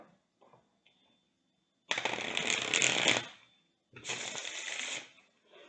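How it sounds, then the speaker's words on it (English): Two bursts of tarot card shuffling, each a rapid riffling flutter lasting about a second, close and clear with a short pause between. "I'll go ahead and shuffle."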